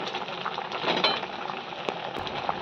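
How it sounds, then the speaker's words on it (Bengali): Pumpkin greens crackle and sizzle in a pan as a spoon stirs them, with a few sharp metallic taps against the pan, close and continuous. "এবার একটুখানি নেড়ে চেড়ে দেবো।"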